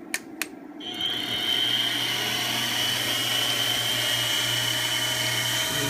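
An X2 CNC milling machine starts up after a couple of sharp clicks, its motor spinning up to a steady high-pitched whine with a low hum beneath, running continuously and close by with no talking.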